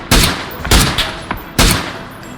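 Gunfire from an online team shooter game: three loud, sharp shot bursts with a few smaller pops between them, close and punchy, with no talking over them.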